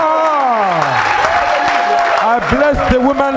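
Church audience at a gospel service applauding and cheering loudly, dense clapping and shouts running throughout, with voices calling out over the noise.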